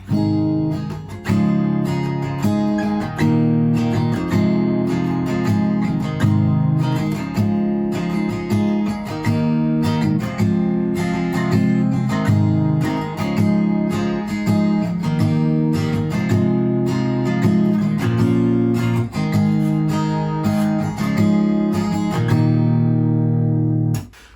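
An acoustic guitar strums a steady chord progression alone, ringing full and close, with chords changing every few beats before a final sustained strum.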